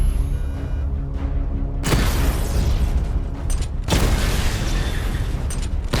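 Targets exploding during a Batman: Arkham Knight weapon diagnostic simulation, two sudden loud booming blasts with rumbling debris and mechanical clatter in between.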